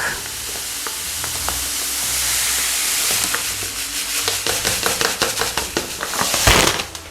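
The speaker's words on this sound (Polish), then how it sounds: "Do gotującego się mleka wsypuję mak." Poppy seeds being poured into boiling milk for kutia, with a steady bubbling sizzle that grows busier and crackly toward the end, with sharp pops and one louder burst near the close; no talking.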